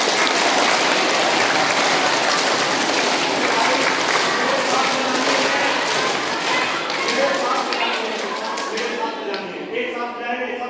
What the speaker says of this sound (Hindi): सबकी ताली एक साथ बजेगी